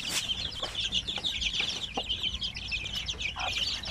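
Chicks and chickens of an oriental breed cluck and peep close by in a farm setting, giving rapid, high, overlapping calls throughout with a few soft knocks underneath.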